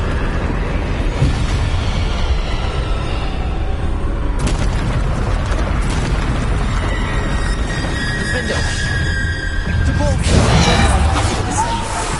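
A Bombarda spell explosion in a Harry Potter game hits as a dense, loud booming blast and continues as rumbling debris and crackles over continuous game noise, with a second burst near the end.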